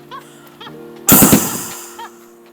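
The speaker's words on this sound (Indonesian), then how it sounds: "di dalam hutan terdengar suara tembakan dari seorang pria tua kepada orang utan dengan senapang angin" One sharp, loud air rifle shot cracks out close by in a forest and fades quickly, with faint birdlike chirps before and after.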